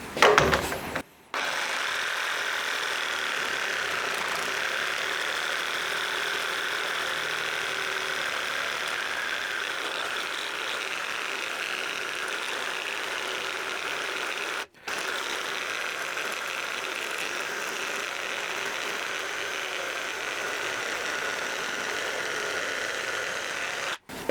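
A FERM Action reciprocating saw cuts through 8 mm thick material with a loud, steady buzzing drone that runs almost the whole time, broken by a short stop near the start and another brief dip midway, with no talking.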